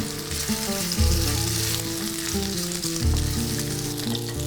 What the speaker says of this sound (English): We're gonna add these potatoes to our hot skillet.